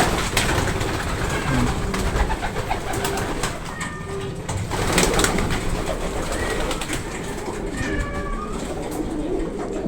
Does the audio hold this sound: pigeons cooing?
yes